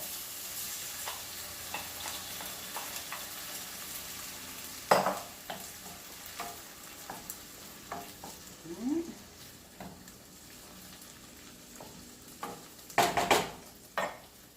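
Cut-up tomato added to a hot pan with cod-and-potato sauce base, sizzling and frying steadily while a utensil stirs and scrapes, with occasional louder clatters against the pan.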